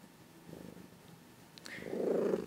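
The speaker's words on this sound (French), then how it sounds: "si vous entendez un chat, c'est normal. C'est mon chat." A pet cat purring close by in a quiet home, a soft rhythmic rumble that swells louder toward the end, with a faint brief higher cat sound in between and no talking.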